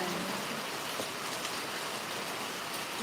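Heavy rain pours down steadily in a rural provincial setting, a dense continuous hiss of water with no break and no clear voices over it.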